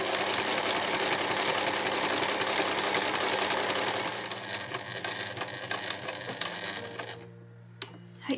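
A sewing machine stitches a bicolor two-way cotton shoulder bag, running in a loud, steady mechanical whir for about four seconds, then slowing into quieter, uneven bursts of stitching before stopping.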